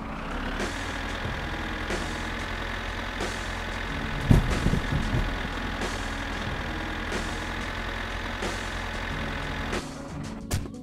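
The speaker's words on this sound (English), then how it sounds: "So, I used the tractor to get to Flutari." A tractor engine in the driving game My Summer Car runs steadily at a low idle-like rumble throughout, with a brief louder thump mid-way and the engine fading near the end.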